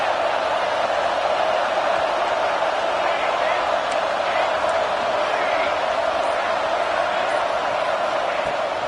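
Stadium crowd cheering in a college football video game, Miami vs Penn State, a steady dense roar filling the whole clip at full loudness, with commentary-style speech likely mixed underneath.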